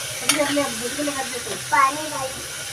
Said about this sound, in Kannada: ಇದೇನು ಉಳ್ಳಾಗಡ್ಡಿ ಟಮಾಟಿ ರೀ ಅದು ಹಾಕ್ಕೊಂಡೇನ್ರಿ ಎಲ್ಲದು ಇದು ಹಾಕಿ ಮಿಕ್ಸ್ ಮಾಡ್ಕೊಂತೇನ್ರಿ